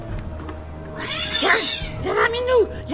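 A house cat meows twice in drawn-out, rising-falling cries, close and clear, over a low hum and faint room noise.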